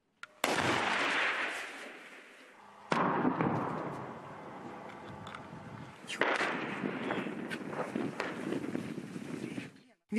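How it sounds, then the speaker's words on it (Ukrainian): Heavy blasts from tank gunfire at a front-line position near the Butivka mine shaft and the village of Opytne, Ukraine; three loud explosive bursts near 0.5, 3 and 6 seconds, each with a long rumbling decay, and a voice talks faintly between them. "тишу розривають вибухи від танкових пострілів"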